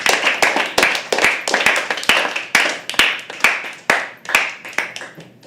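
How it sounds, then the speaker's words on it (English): A small open-mic poetry audience claps for a poet, a sparse scatter of individual sharp hand claps at uneven intervals, close and distinct rather than a dense roar. "Huge round of applause for Bhakti."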